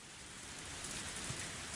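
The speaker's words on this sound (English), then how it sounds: "Can we not have just this repeating rain effect?" Looping rain sound effect from the visual novel Higurashi When They Cry Hou, a steady, dense hiss of rainfall with no pauses or voices.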